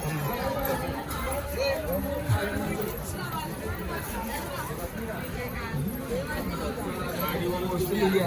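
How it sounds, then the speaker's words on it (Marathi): Dense crowd chatter from many voices at Ekvira temple, a continuous near babble of overlapping talk with occasional footsteps and shuffling, steady and fairly loud throughout. "बहुतेक गर्दी भरपूर आहे"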